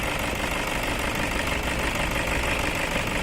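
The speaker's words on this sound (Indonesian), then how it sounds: "Setelah itu kita coba nyalakan mesin." A Toyota Innova or Fortuner diesel engine runs with a steady, loud, rough clatter after being started following a fuel system purge, the knocking hum continuous and unbroken.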